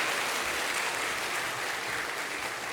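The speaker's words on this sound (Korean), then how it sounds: "박수, 박수" Church congregation applause for a pastor during a service, a steady, dense wash of clapping that fills the sanctuary evenly from start to finish.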